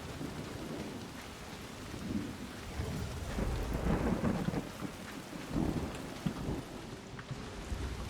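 Thunderstorm in the survival video game Soulmask: steady rain on surfaces with low rolling thunder rumbles building and fading over several seconds, no voices.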